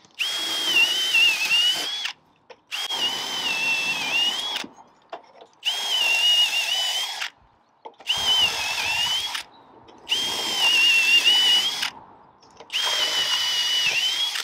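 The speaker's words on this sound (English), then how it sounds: "I'm going to go down and I'm going to drill through all of them holes" A power drill bores holes through a timber and steel flitch beam for a garden room roof, running in six long loud bursts separated by short pauses, with a whining high pitch that wavers under load.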